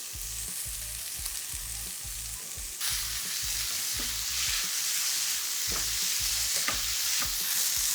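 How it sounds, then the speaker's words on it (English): Scallions and tomatoes sauté in a pan for Jamaican ackee and saltfish, giving a steady close sizzle with soft crackles and a few stirring scrapes, no talking. "I'm just gonna let it saute for about a minute before I add the other ingredients."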